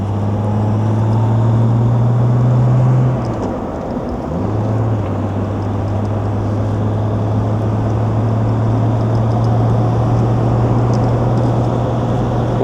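A 1964 Jaguar E-Type Series 1 3.8-litre roadster on the road, its steady engine drone dipping briefly for a gear change before pulling on again, with wind noise running throughout.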